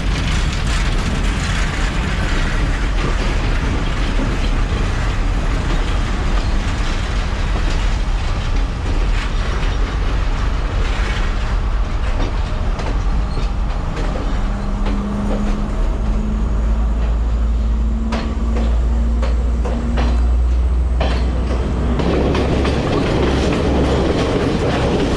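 An express train rolls across a high bridge, its loud, constant rumble and clickety-clack filling the space with a deep low-end roar, heard up close with no voices.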